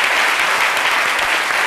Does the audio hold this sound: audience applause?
yes